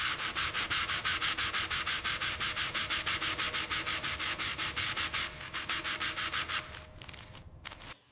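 Rust and old ivory paint being sanded off the metal body shell of a 1937 Fiat 500 Topolino: loud, close, rapid rhythmic scrubbing strokes that run steadily, then slow and fade near the end.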